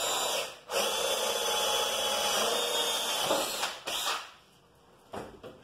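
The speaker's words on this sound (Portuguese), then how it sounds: "Vou centralizar mais ou menos o furo, mais ou menos na medida do risco para não pegar o cano depois" A power drill with a hole saw cuts through PVC pipe in a steady, loud whine that drops out briefly, then resumes before spinning down near the end.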